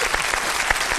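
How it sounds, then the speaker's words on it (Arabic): Audience applause on an Arabic quiz show, a brief dense burst of clapping heard on its own. "تصفيق تصفيق"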